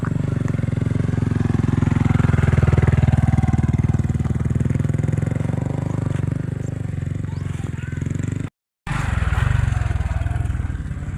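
A motorcycle engine runs steadily and loudly at close range with a low rumble, cuts out briefly near the end, then resumes, with voices mixed in.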